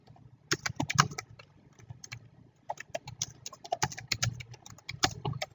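Text being typed on a computer keyboard into a Microsoft Word document: close, irregular bursts of key clicks with brief pauses, no talking.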